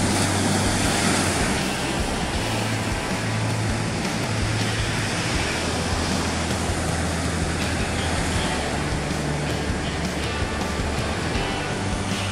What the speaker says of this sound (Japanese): 結構沖からいい感じのうねりがゆったりと入ってきますが、こちらはいつものようにここまで伸びてドカーンと割れますね